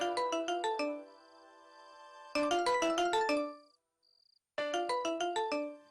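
A phone ringtone plays in three bursts of quick, bright chiming notes with short gaps, ringing clearly and close up.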